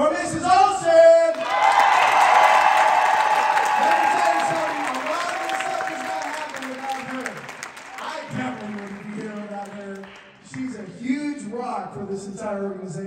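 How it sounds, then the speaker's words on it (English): Audience applause with some cheering and whoops swells loudly, then fades as a voice begins speaking over the tail end. "we got to give a big round of applause for Mrs. Olson!"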